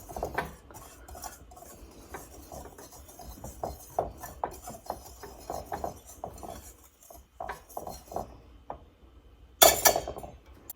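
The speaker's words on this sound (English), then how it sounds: "Put those both in the bowl. And I'm just going to whisk those together." Whisking two instant pudding mixes together in a bowl for a pineapple rum cake: a brisk, steady scrape and clink of the whisk against the bowl, close up, with a louder burst near the end.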